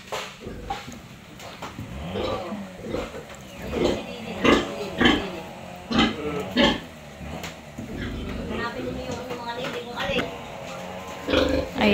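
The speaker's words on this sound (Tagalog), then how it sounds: "Ayan na po, nagpapadidi na po yung inahing baboy." Sow nursing her piglets, with rhythmic, low repeated grunts close by and piglets squealing and snuffling, while a person talks over the animals throughout.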